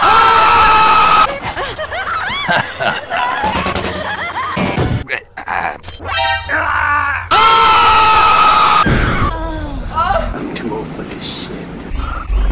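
Loud anguished screaming and shrieking voices from Metal Gear Solid 4, rising and breaking off in several bursts with groans and gasps between, mixed with game effects.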